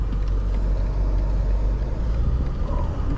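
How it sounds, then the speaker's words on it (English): The V8 engine of a 2023 BMW M850i Gran Coupe rumbles steadily at close range, low and throaty with exhaust burbles, with no talking over it. "You can already hear a ton of burples coming out of this V8."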